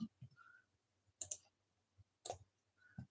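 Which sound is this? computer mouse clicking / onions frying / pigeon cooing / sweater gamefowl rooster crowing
computer mouse clicking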